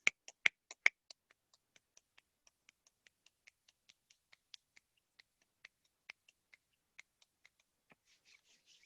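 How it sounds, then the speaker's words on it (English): A series of sharp, quiet finger snaps at an uneven pace from several people, near and clear with no talking, ending in a brief soft rustle of hands rubbing together. "And then I want you to snap your fingers."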